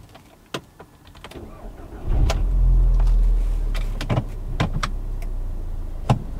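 A VW Golf GTI is restarted with the key: a few soft clicks and taps, then the engine cranks and catches with a low rumble that settles into a steady idle, with scattered sharp clicks over it.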